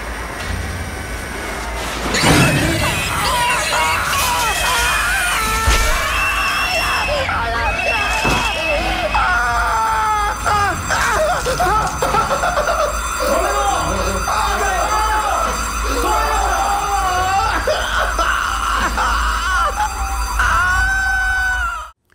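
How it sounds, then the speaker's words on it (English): A human scream in a scary animated film scene, layered with a pig's screaming, runs loud and continuous for about twenty seconds, with wavering, piercing tones over a dense background. "behind the protagonist's scream, which is played by Tetsuya Besho, I layered pig screaming sound"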